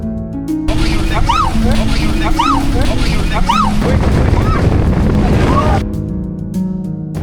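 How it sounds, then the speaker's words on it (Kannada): A steady, roaring rush of seaside wind buffets the microphone, loud and continuous, with voices talking beneath it. "ಹೊರಗಡೆ ಗಾಳಿ ಇದೆ"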